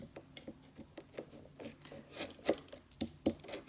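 Scissors snip canvas loose from a frame in a quiet series of short, close cutting and rasping clicks, irregularly spaced with a couple of louder snips.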